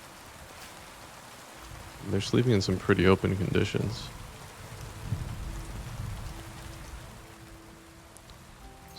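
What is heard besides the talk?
rain in a video game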